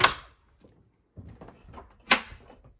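A main bedroom door in a château opens with a sharp click, then shuffling and creaks follow, and a second latch knock comes near the end, close and moderately quiet.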